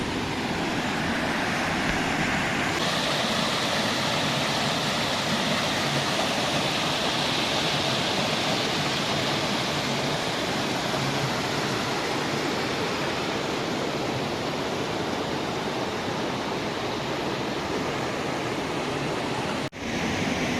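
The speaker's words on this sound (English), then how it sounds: "finally I reached the top of the waterfall" Bugga waterfall near Hyderabad, heard from the top: a steady, loud, broadband rush of falling water lasting throughout, unbroken and close, with no talk.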